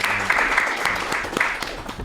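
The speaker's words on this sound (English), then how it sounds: "Let's give him a round of applause, ladies and gentlemen." Applause for a podcast guest: a steady wash of many hands clapping, fairly close and even in level, running alone for about two seconds.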